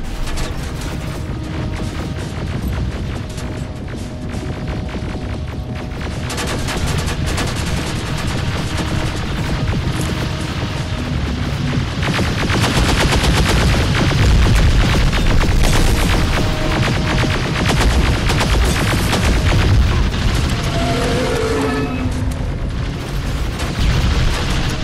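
Defense grid turrets firing in the Terminator: Resistance video game: a sustained, loud barrage of rapid gunfire and booming explosions that swells toward the middle and rattles on without pause.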